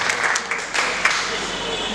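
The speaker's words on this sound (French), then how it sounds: "C'est un applaudissement de l'unité." Guests at a wedding ceremony applaud, a steady wash of crowd clapping that carries on evenly for about two seconds at moderate volume, with no voices standing out.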